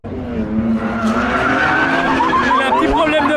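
A Nissan Silvia drifting at a tuning show, its tires squealing in a loud sustained screech with rising and wavering pitch over engine roar, close by, with faint voices in the background.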